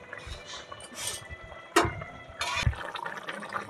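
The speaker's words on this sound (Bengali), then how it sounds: "আমার ঝোলটা কিন্তু সুন্দরভাবে ফুটে উঠেছে" Rohu fish curry gravy with potato and cauliflower simmering in a pot in a village kitchen, giving soft liquid bubbling and occasional splashy bursts, close and moderately loud, with no talking.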